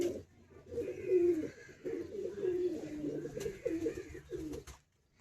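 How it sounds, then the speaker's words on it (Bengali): Madrasi breeder pigeons coo close by in soft, repeated throaty phrases, rising and falling over several seconds before a short pause. "সুন্দর পায়রা।"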